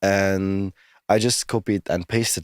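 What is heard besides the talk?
No distinct noise like a dog, phone or traffic.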